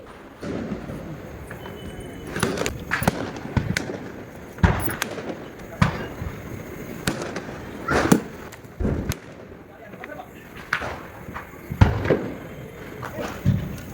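Diwali firecrackers burst repeatedly at irregular intervals, sharp cracks and thuds at varying distances over a constant background murmur, with occasional voices.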